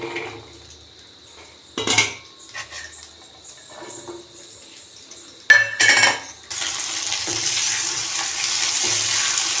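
Shallots and garlic hit a hot pan with clattering metal knocks, then a loud, steady sizzle settles in and continues without speech.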